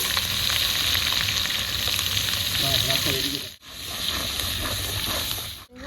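Chicken frying in a pan with tomato and onion paste, a loud steady sizzle close up that runs almost unbroken, cut by two brief pauses.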